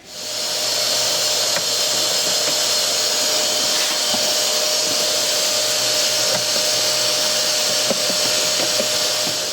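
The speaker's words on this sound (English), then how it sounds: "we'll definitely have to give this one a bit of a vacuum before we refit the new filter" A steady, loud vacuum cleaner cleaning out the cabin filter housing of a Dodge or Chrysler with a 3.6 V6 hums continuously with a constant whine and broadband hiss, unbroken from start to finish.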